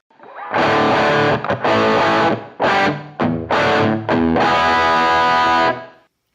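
A distorted electric guitar played through a Two Notes Torpedo Live with a virtual Fender 2x12 cabinet, miked with a Sennheiser 421 in an apartment-like room: loud chugging chords in several bursts separated by short gaps, then one long sustained chord.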